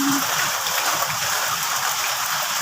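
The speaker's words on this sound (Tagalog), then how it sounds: "Walang katigil-tigil ang ulan." Heavy rain pours down in a dense, steady hiss with no breaks.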